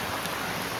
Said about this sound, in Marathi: पाऊस तो बऱ्यापैकी आहे.